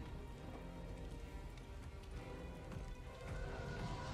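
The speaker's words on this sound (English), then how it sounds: "And it's raining." Steady rain falls in a Star Wars Jedi: Fallen Order game scene, a continuous dense patter and hiss of drops on surfaces that stays loud and even throughout with no voices.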